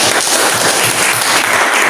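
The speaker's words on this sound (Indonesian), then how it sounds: "Saya tepuk tangan untuk kelompok" Classroom applause for a student group, a dense, loud burst of clapping that fills the short moment without a break.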